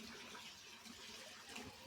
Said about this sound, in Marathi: इथे पाणी भरायचं चाललेलं आहे